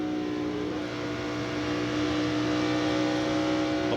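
NASCAR Winston Cup car at Texas in 1998 going by on the outside of another car to lap it, a steady high engine whine with layered harmonics, fairly constant and loud, with no voices.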